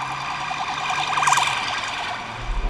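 An emergency vehicle siren wails along a city street in Whitechapel, London, its warbling tone rising and falling at moderate distance over steady traffic noise.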